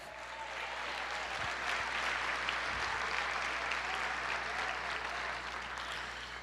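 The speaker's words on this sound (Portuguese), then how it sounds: "aplauda o Senhor" Steady, dense applause from a congregation during a church service, sustained at even loudness for the whole span with no speech over it.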